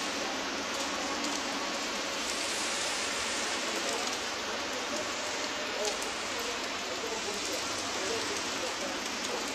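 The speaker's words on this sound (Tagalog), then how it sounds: "Nagkaroon kami dito guys ng hailstorm. Yan. Yung hailstorm na yan." Hail falling in a storm in Dammam gives a constant, dense hiss and patter of ice striking surfaces, even and fairly loud throughout with no break, while a voice talks faintly beneath.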